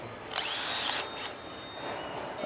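A power drill with blunt bits drills into metal on a dairy farm, whining steadily at high pitch, its tone bending as the bit bites, with a brief pause before drilling resumes.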